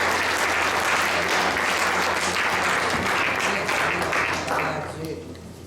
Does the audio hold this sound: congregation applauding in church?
yes